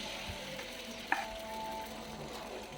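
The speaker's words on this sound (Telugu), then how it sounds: "ఇప్పుడు ఒక బాండీ తీసుకొని కొద్దిగా నూనె వేసి వేడయ్యాక దోశ కొద్దిగా మందంగా వేసుకోవాలి" Bread dosa batter, topped with carrot, onion and coriander, fries thickly in a little oil in a hot kadai, giving a steady soft sizzle with one brief clink partway through, close and alone.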